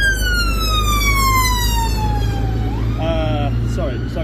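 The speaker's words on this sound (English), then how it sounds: "Wait for the sirens." Police siren wailing loudly and close by on a UK street, a long falling sweep followed by a shifting two-tone wail, over steady engine rumble.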